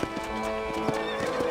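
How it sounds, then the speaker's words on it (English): Horse in the Red Dead Redemption game, steady clip-clop of galloping hooves with a clear whinny, close and loud in a continuous game soundtrack. "This is our horse"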